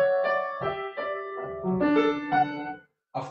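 A piano plays a series of short, rolled, arpeggiated chords in a masterclass setting. The chords are distinct, moderately loud and heard alone, with a brief silence near the end of the passage.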